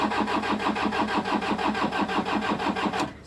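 A 2010 Toyota Hilux with the 2.5-litre 2KD-FTV diesel engine cranks without catching, a steady rhythmic whirring chug of the starter turning the motor over, loud and close, cutting off abruptly near the end.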